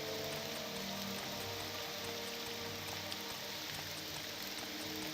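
Steady rainfall in the Morrowind video game, a constant hiss of drops on surfaces running without a break at a moderate, even level.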